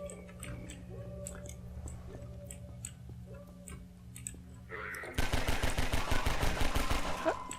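Rapid automatic gunfire in Half-Life: Precursor breaks out halfway through, loud dense bursts following a quieter stretch of ticking ambience and scattered clicks.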